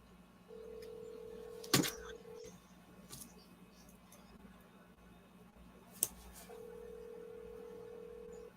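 Phone call being placed, with a steady ringback tone sounding in two long stretches, broken by a couple of sharp clicks and handling knocks.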